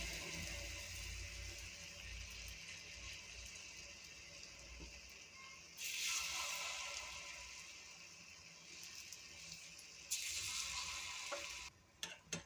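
Appe batter poured into an oiled appe pan, sizzling and frying softly with a steady crackle and occasional faint clinks, quiet and close.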